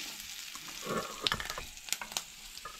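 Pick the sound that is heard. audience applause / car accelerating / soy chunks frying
soy chunks frying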